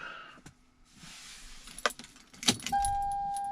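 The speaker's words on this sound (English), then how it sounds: "turn the car on completely without starting it" Car keys jangling in the ignition of a car being switched on without starting, a few sharp metallic rattles followed by a steady electronic chime tone.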